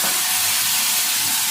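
Potatoes and onion frying in a little hot oil with turmeric, salt and nigella seeds, giving a steady, even hiss that runs unbroken throughout.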